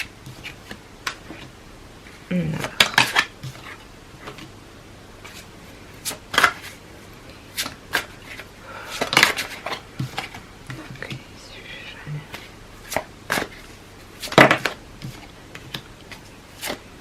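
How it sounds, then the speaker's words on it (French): Tarot cards being shuffled and handled, with crisp flicking riffles and snaps in irregular bursts, close and fairly loud, alongside quiet room noise. "Je vais tirer encore les cartes en dessous"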